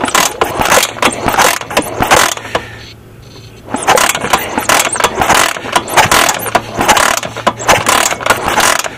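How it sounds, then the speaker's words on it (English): Kick-starting a 1987 Honda 250EX ATV with a faulty ignition coil and no spark: loud, close mechanical clanking and ratcheting strokes repeat rapidly, with a brief quieter pause midway before the kicking resumes. "It's hard to kick it over and at the same time watch it spark."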